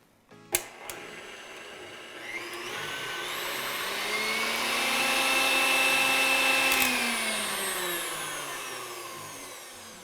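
An electric mixer whips egg whites for meringue, starting with a sharp clack, then a steady motor whine that swells and shifts pitch as it runs continuously, close and fairly loud.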